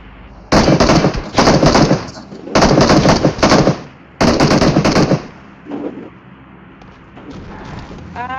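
Bursts of rapid automatic gunfire in a first-person shooter game, four loud sustained volleys separated by brief pauses, with faint game sounds trailing off afterward.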